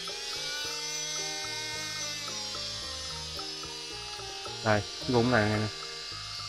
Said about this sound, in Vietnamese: máy đang hoạt động, cơ cấu của nó là rung, hệ thống điều tốc phía sau.